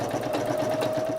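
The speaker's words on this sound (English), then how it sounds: "But I've never used a sewing machine before." A sewing machine stitches leather as a first-time user works it, giving a steady, close mechanical whir with a fast rapid ticking rhythm and a sustained mid-pitched hum throughout, with no talking.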